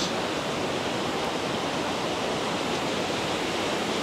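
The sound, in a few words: waterfall in Cat Cat Village, Sapa, Vietnam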